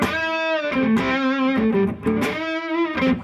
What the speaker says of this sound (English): So I got a little distortion going on the guitar.